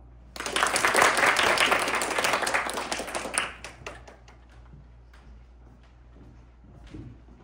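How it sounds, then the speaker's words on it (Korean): Audience applause fills a hall at a Seoul Women's University public administration department annual performance, a loud sustained burst for about three seconds that thins into scattered claps and quiet room tone. "여러분들께서 큰 박수와 격려로 응원들을 해주시면 좋겠습니다"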